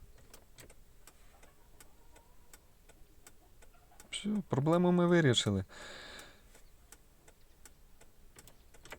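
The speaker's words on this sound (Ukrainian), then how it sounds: "це реле працює набагато голосніше проти того, яке стояло у мене" Steady, regular clicking of a Daewoo Lanos turn signal relay ticks throughout, fairly quiet, with someone briefly speaking over it midway.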